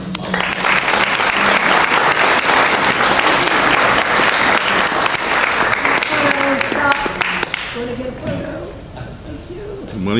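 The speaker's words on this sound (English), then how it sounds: "everybody give him a round of applause" Loud, dense applause fills a Rotary club meeting for an award recipient, many hands clapping close by for several seconds before fading, with voices speaking as it dies down.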